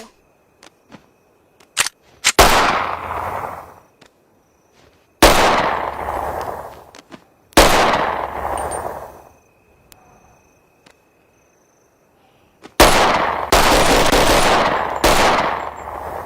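Five loud gunshots from a gun fired at irregular intervals, each a sharp crack trailing into a long rolling echo, with faint clicks and handling noises in the quiet gaps and no talking.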